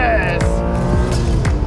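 BMW E46 M3 with the top down, its engine revving hard near 8,000 RPM with a brief tire squeal over a loud, continuous drone.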